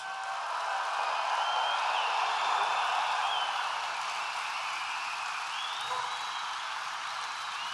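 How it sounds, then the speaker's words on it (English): A large convention-hall audience at the NRA Leadership Forum gives veterans a sustained round of applause, a steady wash of distant clapping and crowd noise lasting several seconds. "we want to give them a big, big, beautiful round of applause"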